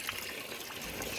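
Water runs steadily into an inflatable swimming pool, a continuous close splashing trickle with no clear pauses.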